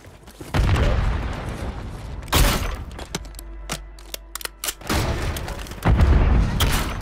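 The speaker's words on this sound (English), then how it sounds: "Grenade." Grenade blasts in Call of Duty: several heavy, booming thuds at close range, separated by sharp transient cracks, with a dull rumble lingering between hits.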